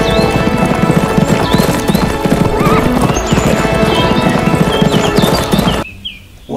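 Toy sound effect of a horse: a loud, steady clip-clop of hooves mixed with whinnying neighs for about six seconds, cutting off abruptly into near silence.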